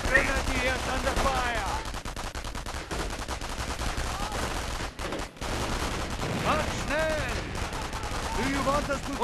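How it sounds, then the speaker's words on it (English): Dense gunfire and bursts of machine-gun fire rattle without pause in the World War II strategy game Company of Heroes: Opposing Fronts, with shouted unit voice lines and battlefield noise layered over the shooting. "Retreat! Grenadiers taking fire! Advances! Grenadiers are engaged!"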